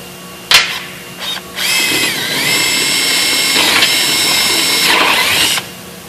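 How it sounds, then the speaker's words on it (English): A power drill with a 5/16 bit whirs steadily at close range after a few brief starts, its pitch dipping as the bit bites, then stops abruptly. "we're going to use that's a 5/16 drill bit for a 1/4 inch drive"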